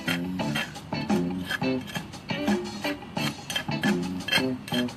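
Clinking and scraping of dishes and utensils in a Thai restaurant kitchen as cooking gets underway. Rapid, repeated metallic clatter and rubbing strokes come in a busy, steady rhythm, fairly close, with no talking.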